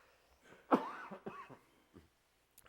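A man coughs during a church sermon, a couple of harsh bursts close to the microphone, with a quieter throat sound trailing after and no speech.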